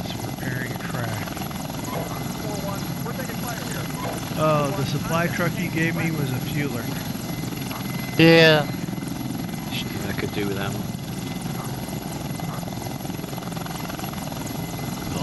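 A military helicopter in a multiplayer war game drones steadily overhead with a low rotor hum, while players talk over it and a brief tonal beep cuts in midway.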